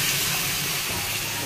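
Water poured into a hot pan gives a loud, continuous steamy hiss that fills the short moment evenly without a break.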